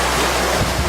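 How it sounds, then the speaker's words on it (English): Ocean waves wash around a sailing boat in one loud, brief, continuous burst of surf and wind buffeting the microphone. "You know, it's just the ocean."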